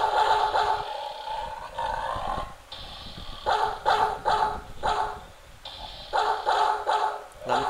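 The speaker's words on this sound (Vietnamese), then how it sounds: "ui thêm chó nữa." Several dogs bark and growl in a horror video game, loud barks coming in repeated clusters with brief pauses between them, near and harsh over low game ambience.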